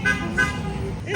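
Short bursts of a horn honking from Santa's golf cart parade, close and fairly loud, sounding over a background of people's voices.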